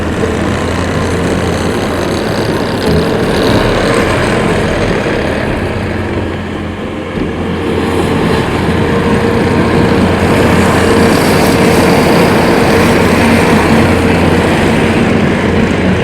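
A 2019 Bobcat T595 rubber track skid steer loader runs with a steady, loud engine drone and broadband rumble that barely changes, briefly easing around the middle before continuing unbroken, with no talk.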